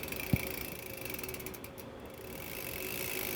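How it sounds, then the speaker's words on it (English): A bicycle's freshly oiled chain is back pedaled through a dry rag, a close, steady ticking whir of ratcheting freewheel and chain with one sharp click near the start and no talk. "Just take a clean, dry rag and back pedal through to get that excess oil out of there."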